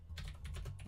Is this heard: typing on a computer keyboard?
yes